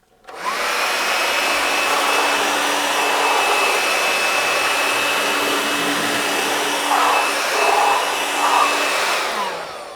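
Vax Gator 10.8 volt cordless handheld vacuum cleaner with its nozzle extended, sucking up porridge oats beside a hob; a steady, loud whining motor hum runs throughout with slight shifts in pitch as the oats are drawn in, and no talking.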